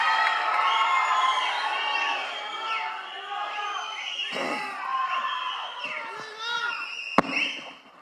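A large fan crowd at a stage event for the actor Simbu erupts in loud sustained cheering, shouting and whistling, with a sharp bang near the end.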